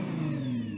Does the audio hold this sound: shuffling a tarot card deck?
no